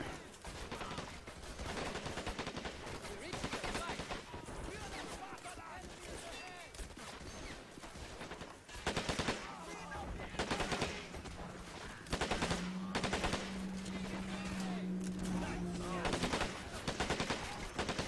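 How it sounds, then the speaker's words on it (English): In Men of War: Assault Squad 2, an enemy soldier fires close and loud, mixing rapid bursts with single shots across the whole stretch as battle noise keeps running beneath. "there's a guy right there that's shooting us as we come along"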